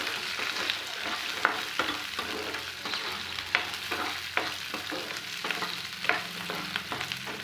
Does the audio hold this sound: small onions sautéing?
yes